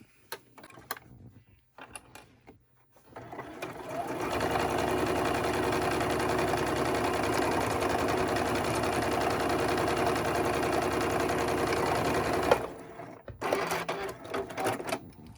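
Sewing machine running a straight stitch on a fabric face mask with a nose bridge and neck band, a rapid steady mechanical whir lasting about nine seconds, bracketed by quiet handling sounds before and after.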